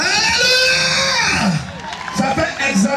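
A large religious gathering cheers and shouts loudly in sustained acclaim, high excited voices and whoops layered over music, swelling continuously with a brief dip before rising again.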